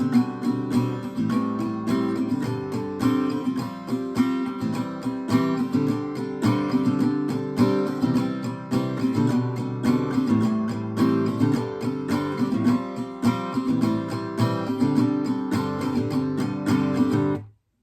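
An acoustic guitar strums the refrain of a song in its live version, a steady rhythmic chord pattern played close and alone, cutting off abruptly at the end.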